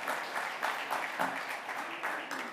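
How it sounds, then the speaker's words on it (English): Audience applause for entertainers at a First Nations energy and leadership summit in Saskatchewan, a steady mid-level wash of many hands clapping through the whole stretch with faint voices mixed in. "if you could all join me in a warm applause for our entertainers."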